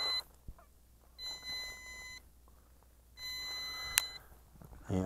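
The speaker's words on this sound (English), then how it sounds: "turning this off to stop the annoying beep" Electronic beeps from an MJX Bugs 7 B7 drone remote controller, two sustained tonal beeps about a second long each, separated by pauses, with a brief click near the end.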